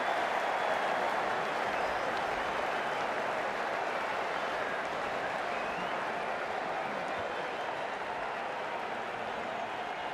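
A stadium crowd at a T20 World Cup cricket match between Afghanistan and South Africa applauds a boundary with a dense, steady wash of clapping and cheering.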